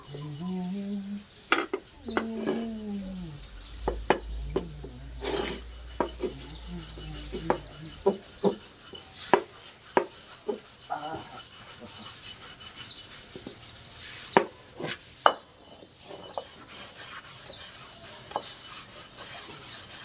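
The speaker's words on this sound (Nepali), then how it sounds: "साबुन मस्काउनु पर्यो। भाँडा धुनु पर्यो नि।" Pots, a wok-style kadhai and plates being scrubbed with soap during dishwashing, heard as close, irregular rubbing and scraping strokes with sharp clinks of metal and ceramic, running steadily and alone without talk.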